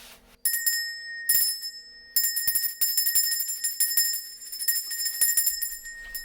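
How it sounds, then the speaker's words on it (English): A small bell rung by hand to mark nine o'clock gives repeated bright, ringing strikes in bursts, with tones that sustain and decay, close and fairly loud with no talking. "all that's left now is to wait for that 9 o'clock bell"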